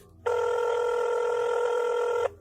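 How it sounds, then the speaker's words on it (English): A telephone gives one steady electronic ring lasting about two seconds. It is loud and clear, with nothing else heard. "Then she reached over and grabbed the phone and called Ken."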